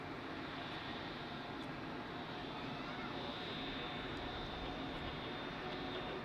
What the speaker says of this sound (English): here we have the Lufthansa A321, which you have seen earlier